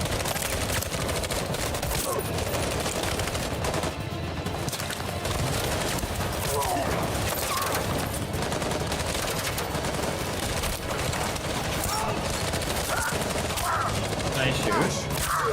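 Continuous, dense gunfire from a battle in Detroit: Become Human roars without pause for fifteen seconds, a loud wash of shots layered with voices and background score.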